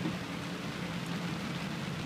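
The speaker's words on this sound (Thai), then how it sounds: "วันนี้ ฝนตกหนัก" Heavy rain pours steadily onto a flooded road in Ban Phue village, a constant dense hiss with no breaks and no voices.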